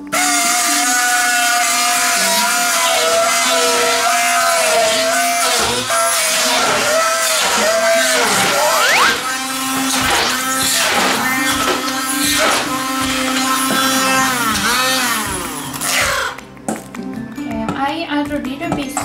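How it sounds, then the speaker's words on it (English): A hand blender purees cooked cabbage for baby food, its motor whining loudly and shifting in pitch as it churns, with short pauses and clinks, ending with a quieter stretch of handling noise. "Okay, I use a hand blender to grind."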